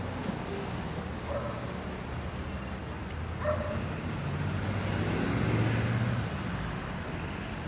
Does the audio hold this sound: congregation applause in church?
no